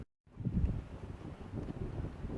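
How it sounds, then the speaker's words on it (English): Strong wind buffets the microphone at an abandoned strip mine in Santa Fe National Forest, a low rumbling gusty roar that starts abruptly after a brief silence and continues unevenly. "Sorry, it's really windy where we're at."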